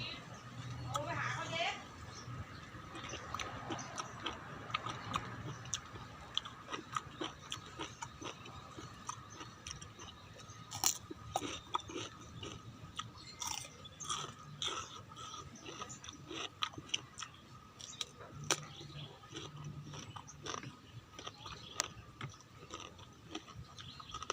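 Crispy, crunchy food is chewed close to the mouth in a steady run of small crunches and bites, under ongoing talk from a man.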